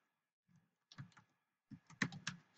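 Light keystrokes on a computer keyboard come in two short bursts of quick clicks with silence between, close and fairly quiet.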